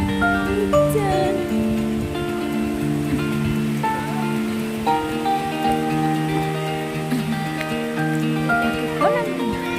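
Rain falls steadily at the Pelang beach waterfall in Trenggalek, East Java, a continuous hiss over outdoor ambience, while voices and background music play throughout.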